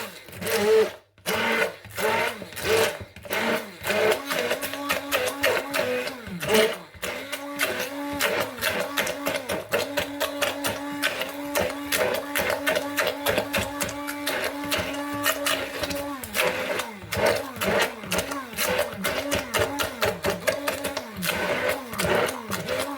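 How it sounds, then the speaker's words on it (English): A stick blender whirs as it blitzes a vegan chilli, with a pulsing motor drone that rises and falls in short repeated bursts and then runs steadily for long stretches. "Get your stick blender and give that a good blitz down."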